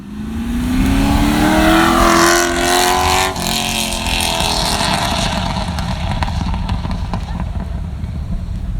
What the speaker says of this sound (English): Rolling Exhaust Contest